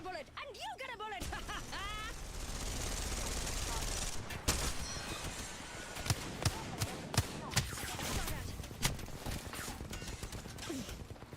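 Gunfire in the battle royale shooter Apex Legends: several sharp single shots and short bursts land at a steady pace over game noise, with a voice chattering briefly at the start.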